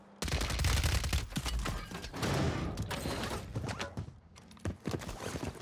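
Rapid tap-fired gunshots from a rifle in the video game Warzone 3, a dense run of sharp, close cracks in quick bursts with brief gaps, staying loud throughout without talk.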